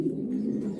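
A racing pigeon coos in a low, steady, rounded murmur, close and alone with no talking.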